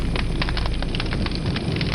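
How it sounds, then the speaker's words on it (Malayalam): A funeral pyre burning, heard as a dense, continuous crackling roar with rapid snapping pops over a low rumble. "അദ്ദേഹം എൻ്റെ ചിതയ്ക്ക് തീ കൊളുത്തി"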